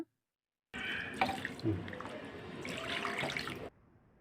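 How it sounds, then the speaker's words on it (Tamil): Water runs steadily from a tap for a few seconds, splashing and trickling into a sink while raw chicken is washed, with a brief clunk partway through. "தண்ணி ஊற்றி நல்லா க்ளீன் பண்ணி வச்சுக்கோங்க"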